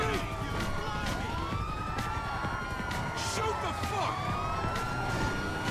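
Police car siren wailing in GTA 5, rising and falling sweeps running through the whole stretch over steady game noise, with people talking over it.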